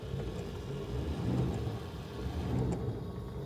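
Engine of a Rolls-Royce car idling and given a light rev, a low steady rumble that swells gently twice, heard from close by with no talk.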